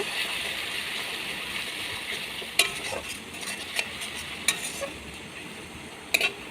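Rohu fish and eggplant curry with green chilies is stirred in a pan, a soft, steady sizzle broken by occasional light scrapes and taps of the spatula, quiet and close.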